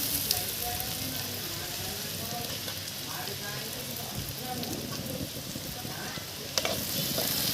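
Onions and garlic frying in a pan on a balcony for egg curry, a steady soft sizzle with stirring scrapes throughout, moderately close, with a sharper clatter near the end.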